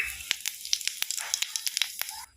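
Cumin seeds dropped into hot oil in a kadai crackle and sizzle with a run of sharp, close pops over a soft steady frying hiss, then the hiss cuts off abruptly.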